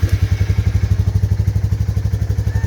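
Royal Enfield Super Nova motorcycle engine running right after starting, a steady close-up loud thumping idle with even rapid pulses and a faint mechanical clatter, no voices.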